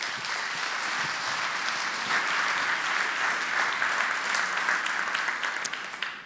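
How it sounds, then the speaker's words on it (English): Warm audience applause greets a speaker at an urban affairs event in the Netherlands, a full, continuous clapping crowd that swells slightly midway and tapers off at the end. "may I have a very warm applause, Robert Hammond."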